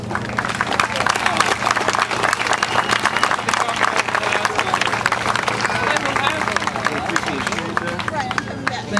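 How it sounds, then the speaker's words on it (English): Sustained crowd applause at an outdoor Fourth of July Tea Party rally in Boston, dense clapping with crowd murmur running steadily throughout. "let's welcome him and give him a warm round of applause"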